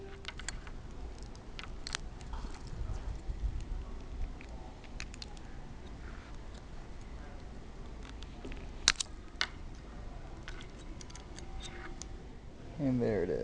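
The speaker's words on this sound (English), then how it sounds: "I normally just use a little flathead screwdriver." A small flathead screwdriver pries a CR2032 coin battery off the circuit board inside a retro Nintendo game cartridge. It gives faint, scattered clicks and scrapes, with a few sharper snaps near the end.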